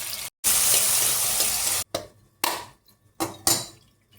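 Onions and tomatoes sauté in a clay pot for crab gravy. A loud, close sizzle bursts in long and short stretches as the pan is stirred, with gaps of quiet between them.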